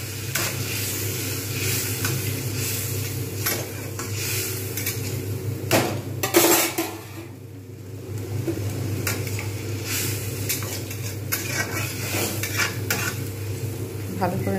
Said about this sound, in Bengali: ভালো করে নাড়িয়ে দিচ্ছি।